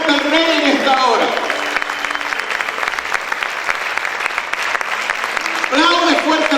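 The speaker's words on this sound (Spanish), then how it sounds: "Vamos a aplaudir fuerte al Rey en esta hora." Loud, sustained applause rises from a church congregation praising the Lord, a steady dense clatter of many hands, with a preacher's amplified voice speaking at the start and end.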